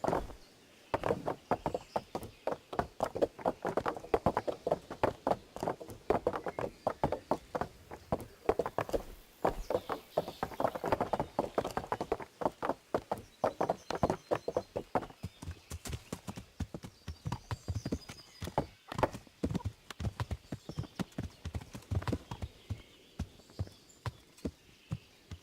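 Horse hooves clip-clopping in the video game Kingdom Come, a brisk, regular stream of clear hoof strikes at a walking or trotting pace, fairly close and continuous for the whole stretch.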